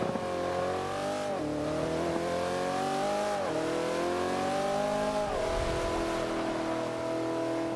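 A McLaren P1 engine in Forza 5 revs hard on a hot lap, rising pitch climbing through gears with short dips at each shift, loud and continuous with no talk.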